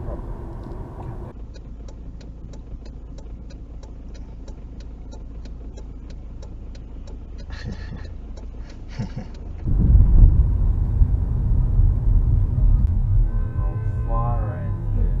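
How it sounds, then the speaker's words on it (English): A Leyland fire engine rumbles with a steady low engine drone, growing louder and heavier partway through as it draws nearer. "Oh, Leyland fire engine."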